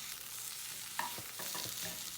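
Apple slices frying and being stirred in bacon fat in a pan, with a soft, steady sizzle and a few light scraping stirs, fairly quiet and with no talking.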